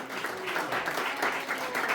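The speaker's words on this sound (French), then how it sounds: "On va les applaudir très fort." Applause for the staff at the Hotel St Augustin in Strasbourg during an award celebration, a steady dense wash of clapping that stays close and even throughout.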